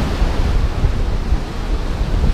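Sea waves wash steadily during a fishing outing, a constant broad surf roar mixed with wind noise on the microphone.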